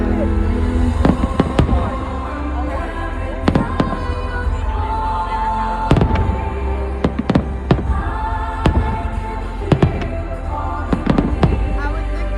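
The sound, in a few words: fireworks exploding at a firework show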